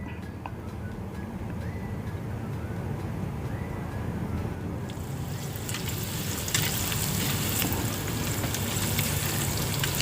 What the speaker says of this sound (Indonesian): Goreng hingga sampai menguning teman-teman agar crispy.